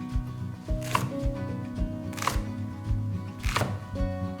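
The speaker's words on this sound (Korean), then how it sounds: "그 다음에 대파도 채 썰어주세요." Knife slicing green onion into thin strips on a cutting board while making napa cabbage kimchi, three sharp chops spaced about a second apart over a faint steady background hum, close and clear with no talking.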